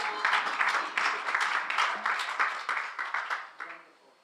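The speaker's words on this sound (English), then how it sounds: "You can clap for Jesus." A church congregation claps together for several seconds, a steady scatter of handclaps filling the room before fading toward the end.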